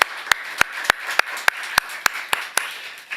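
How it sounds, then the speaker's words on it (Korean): Nine sharp, evenly spaced claps ring out in a slow unison rhythm as a church congregation applauds its choir, with no talking over them. "이 시간 우리 하나님께는 영광을, 또 찬양대에게는 격려의 마음 담아서 크게 박수 한번 할까요?"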